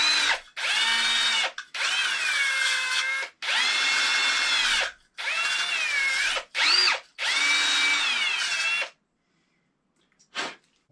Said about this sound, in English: So what I like to use is, to clean these, is I usually like to use either a wire brush.